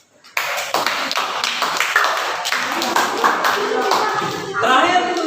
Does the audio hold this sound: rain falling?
no